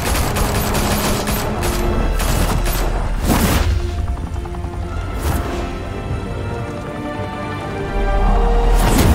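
Sustained gunfire in a Batman video game, loud, dense bursts of shots and booms rattling continuously, with a few heavier blasts standing out and a brief flare of volley near the end.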